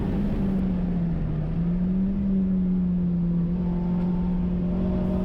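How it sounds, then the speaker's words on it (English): A steady Toyota 1NZ-FE engine drone from a Toyota Vitz racing on track at Manfeild, holding an even pitch throughout, a continuous hum with no pauses or voices. "listening to the melody of the 1NZFE"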